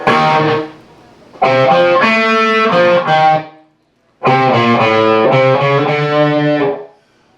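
Distorted electric guitar strums sustained chords in two loud phrases separated by a short silence, with no talking.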